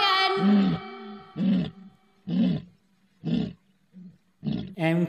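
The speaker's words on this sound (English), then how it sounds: "L for lion." A lion gives a series of deep, throaty roars and grunts, five or six separate bursts spaced about a second apart with short pauses between, loud and close with slight echo.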